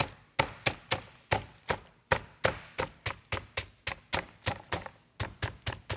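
A pork tenderloin is pounded flat with repeated sharp thuds, about twenty evenly spaced close impacts in a steady rhythm, each a crisp hit that decays quickly.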